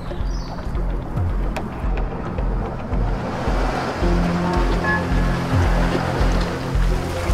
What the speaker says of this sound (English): Waves on the rocks.